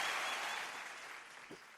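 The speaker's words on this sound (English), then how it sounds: "I want to give everyone a big round of applause" Group applause in a classroom session after icebreakers: a soft, steady wash of many people clapping, heard from a distance and slowly fading away.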